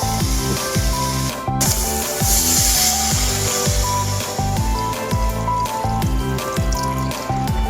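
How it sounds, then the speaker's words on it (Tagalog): Water is poured into a cooking pot for crab sinigang, a loud continuous splashing gush with gurgling, close up and alone without talk. "So maglagay na po tayo ng tubig."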